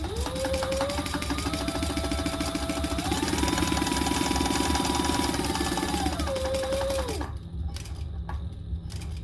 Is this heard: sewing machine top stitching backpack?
yes